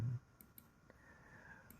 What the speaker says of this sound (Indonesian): maka kita klik pas fotonya, klik kanan